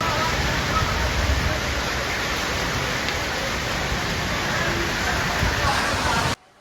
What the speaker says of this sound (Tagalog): ganyan kalakas ang ulan ngayon dito sa Diwata Pares Overload